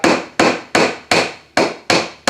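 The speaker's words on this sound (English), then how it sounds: "I'm being very gentle with the hammer and just hitting that with the head at 90 degrees" A hammer taps a nail into a wooden birdhouse kit with seven sharp, evenly spaced strikes, each a crisp close knock that rings briefly and decays before the next.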